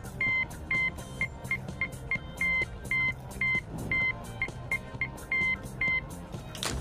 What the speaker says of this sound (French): Il donne un code en morse à traduire sous 3 chiffres distincts.